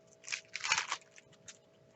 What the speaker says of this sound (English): I can just take scissors and cut down